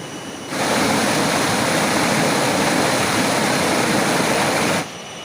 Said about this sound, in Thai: น้ำตกแห่งนี้เป็นน้ำตกที่ 2 ของ จังหวัดชุมพร